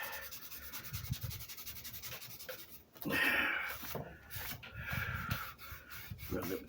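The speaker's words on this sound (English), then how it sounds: "Just gonna rub that in a little bit" Glue being rubbed into the wood of a Les Paul guitar body during a build, heard as close, scratchy rubbing strokes in uneven bursts, louder and busier in the second half.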